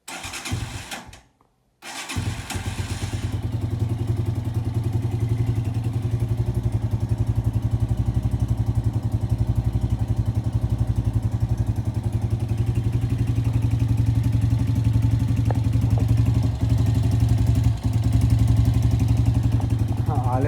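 Engine of a CG Sentille motorcycle running steadily at idle after a carburetor adjustment, a loud, even low rumble that holds for nearly twenty seconds after a brief cutout near the start.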